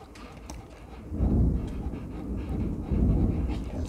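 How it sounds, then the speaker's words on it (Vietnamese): Low rolling thunder outdoors, two deep rumbles swelling and fading a couple of seconds apart, fairly loud beneath a faint background, with no speech. "Sấm đấy. Không đứa nào sợ sấm à?"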